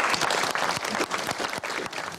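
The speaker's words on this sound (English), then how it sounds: "I wish you, Her Royal Highness," Audience applause in a hall welcoming the Countess of Wessex, dense and fairly loud with steady clapping from a large crowd.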